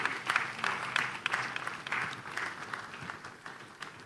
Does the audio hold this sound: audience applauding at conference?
yes